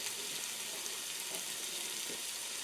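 Onions, garlic and spices cook gently in a pot over very low heat, giving a soft, steady sizzle with faint bubbling and stirring, heard alone with no talk.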